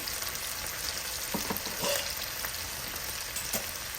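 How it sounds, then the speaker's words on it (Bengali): Ginger garlic paste frying in a pan gives a constant close hiss of sizzling oil, with a few faint clicks of stirring and no talk. "এখন আমি দিয়ে দিব আদা রসুন পেস্ট"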